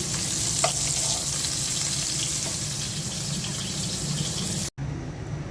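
Loud, steady sizzling of onions frying in oil left from frying rohu fish, continuous and close, with a brief cut near the end.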